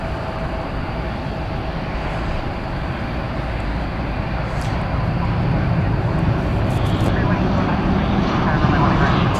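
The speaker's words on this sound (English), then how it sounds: "American Flight 2071 to Querétaro in Mexico. It is a 737-800." An American Airlines Boeing 737-800 jet roars steadily at Dallas Fort Worth Airport, a loud, broad engine rumble that swells slightly toward the end, with a voice speaking over it.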